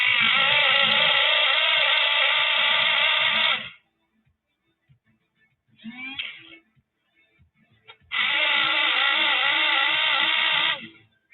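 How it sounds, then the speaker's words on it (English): Loud electric pencil sharpener grinding a yellow colored pencil in two long whirring bursts, close up, with a short rattle of handling in the quiet gap between them. "the giant eye point electrical sharpener"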